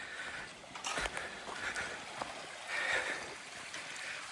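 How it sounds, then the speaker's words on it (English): Steady rushing creek water fills the clip, broadband and continuous, with a few soft thumps and brief rustles near the microphone. "And here's the creek."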